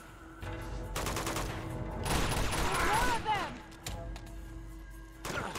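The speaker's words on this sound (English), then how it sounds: "This is becoming one of my favorite weapons, this pistol." Pistol gunfire in Uncharted 2 rings out in quick bursts, loudest through the middle, layered with game effects and a talking voice.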